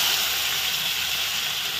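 Chopped tomato hits hot oil tempered with nigella seeds and green chilli for a fish curry, giving a loud, steady, close sizzling hiss that carries on without a break.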